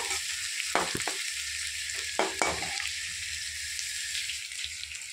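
Onions frying in a pan until reddish send up a continuous, even hiss, broken by a few stirring scrapes and knocks near the start and middle.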